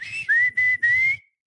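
A person whistles in imitation of the well-known whistler at Vanderbilt baseball games, giving three loud, clear, sustained notes close to the mic, with short gaps between them and no talk.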